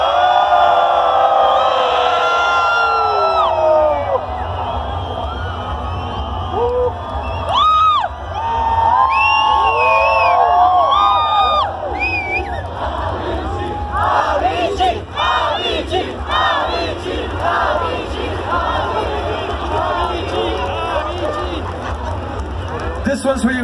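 A large festival crowd at a Don Diablo set at Pal Norte 2018 roaring, cheering and whooping loudly for a long stretch, with scattered shouts and screams rising and falling.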